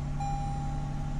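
Inside a 2022 Toyota Tundra, a parking brake warning chimes as a steady electronic tone over the low hum of the idling truck, with no voices.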